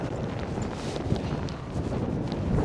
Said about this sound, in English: I'm not too sure which direction this wind's coming in